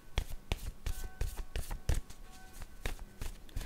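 Oracle word cards are shuffled and drawn by hand, giving a quick run of close, crisp riffling taps and slaps, fairly quiet and with no talking.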